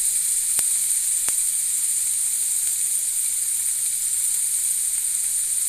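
Shrimp frying in a pan for shrimp tacos, a constant loud hissing sizzle with a couple of faint clicks near the start, no talking.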